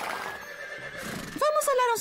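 A cartoon horse lets out a loud, wavering whinny near the end, with a faint clip-clop of hooves, following a stretch of animated dialogue.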